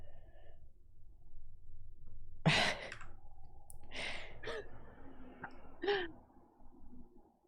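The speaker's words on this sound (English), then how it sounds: "I was just yawning." A person yawning during a livestream, with a breathy drawn-out exhale followed by a few softer breathy bursts and clicks, faint and close over quiet background hum.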